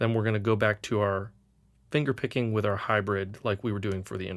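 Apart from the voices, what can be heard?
None of the usual background noises is heard.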